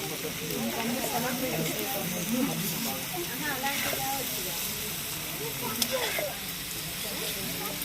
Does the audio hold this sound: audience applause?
no